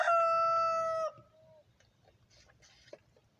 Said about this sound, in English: The roosters ain't done doing their thing yet.